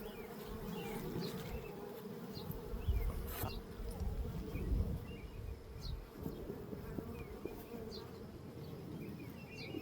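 Honey bees buzz steadily during a beehive inspection, a close, continuous drone with small bumps and brief louder passes of single bees, with no talking.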